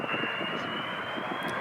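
Avro Vulcan bomber, a large delta flying-wing jet, with a steady loud engine roar and high whine held throughout, no voices.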